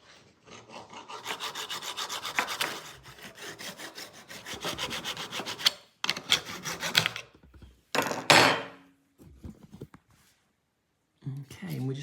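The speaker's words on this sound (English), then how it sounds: "Next up, we are going to cut this section off here, leaving that corner on there," A saw cuts a section off a cracked plastic center console in a Mercedes R107 SL, making loud, close, rhythmic rasping strokes in long bursts, then shorter sawing bursts separated by pauses.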